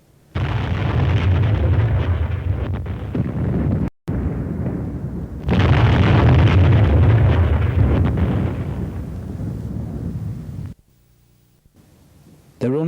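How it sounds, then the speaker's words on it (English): Explosion roaring through the Gresford coal pit near Wrexham in 1934: two long, loud, deep rumbling blasts, broken by a sudden cut, then a quiet stretch and a renewed burst at the end. "That shaking felt by Mrs. Williams was an explosion that roared through Gresford pit."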